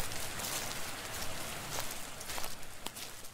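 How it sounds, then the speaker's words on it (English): Video game rain: steady patter falling on surfaces, a dense even hiss with scattered louder drops. "It's actually raining here."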